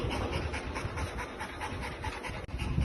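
A dog with tick fever pants quickly and rhythmically, close and continuous, with fast, shallow breaths for the whole stretch.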